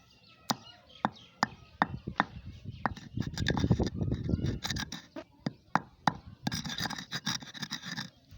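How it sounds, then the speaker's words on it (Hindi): Pills being pounded and ground to powder in a mortar, sharp repeated knocks at an uneven pace mixed with gritty grinding and scraping, close and fairly loud. "सबसे पहले जी हमको गोलियों को पीस लेना है, ठीक है, कूंडी में।"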